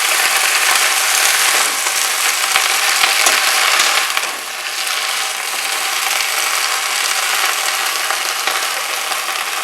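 Chopped bottle gourd greens frying in a pan and being turned over, a loud dense sizzle with rattling, scraping stirs that ease briefly midway before continuing.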